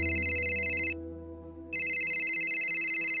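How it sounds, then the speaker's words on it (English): A mobile phone ringing in two electronic trilling bursts split by a short pause, clear, loud and close, with no voices. "After 3 attempts of ringing his phone,"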